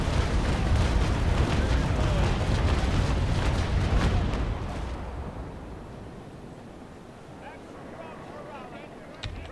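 Broadside cannon fire from a ship in the naval combat game Naval Action, with heavy booming blasts and rumble for about five seconds before fading to a quieter background of sea and ambience.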